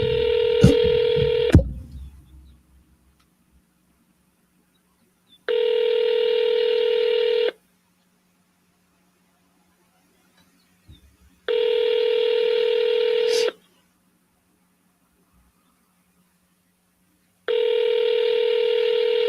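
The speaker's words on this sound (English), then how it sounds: "Let me call this guy." A phone call to a seller sounds a short burst of keypad tones followed by repeated ringback tones, each about two seconds long with four-second gaps, clear and close.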